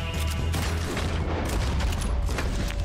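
Gunfire in Red Dead Redemption 2, a dense stretch of overlapping shots and booming reports echoing continuously with bullets striking rock, loud and sustained without a clear break.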